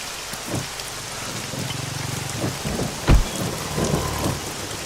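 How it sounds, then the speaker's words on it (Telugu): Heavy rain pours steadily in a dense, hissing wash, with low rumbles and a sharp thunder crack cutting through partway. "వాన బాగా కుమ్మేస్తుంది కదా అంటున్నా."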